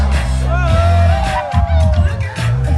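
A pageant audience at the Miss KYF contest of the Karbi Youth Festival cheers and whoops, with loud, close shouts and rising yells over a dense crowd roar and a booming hall mix.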